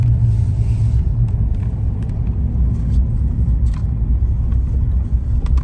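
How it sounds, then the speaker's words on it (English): A truck rolls past on a road beside flooded shoreline, a steady loud low rumble of engine and tyres with faint ticks and clatter over it and no one speaking. "Another truck coming."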